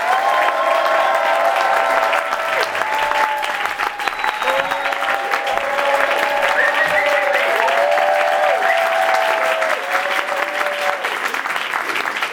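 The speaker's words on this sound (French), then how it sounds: "est-ce qu'on peut applaudir bien fort les élèves de Impro Lyon?" Audience applause for improv students at an Impro Lyon second-year show, dense and steady for the whole stretch, with cheering voices and a tonal whoop rising through the clapping.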